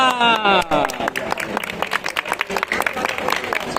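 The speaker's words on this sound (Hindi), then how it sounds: "5 तालियां" A school class claps on cue during a lesson, a burst of scattered hand claps with voices overlapping at the start, then uneven individual claps continuing.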